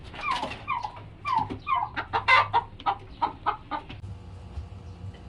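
Several turkeys gobble and cluck in bursts close by, with a low steady hum running underneath.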